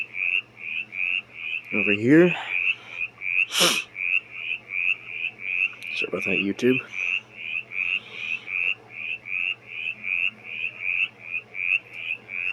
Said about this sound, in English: We have the sound of a mountain chorus frog as opposed to my Pacific tree frog from yesterday.